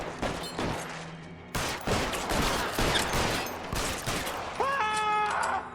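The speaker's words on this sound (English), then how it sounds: "he's got a Tommy gun" A Tommy gun fires in rapid bursts during a shootout in the L.A. Noire video game, loud clattering volleys mixed with other gunfire and a brief ringing tone near the end.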